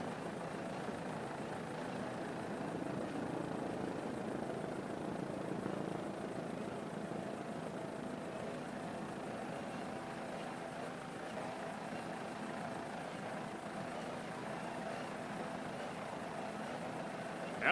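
Offshore racing powerboat Outlaw F244, powered by twin 500 hp Mercury inboards, gives a steady low engine drone from a distance, constant and fairly faint without clear surges.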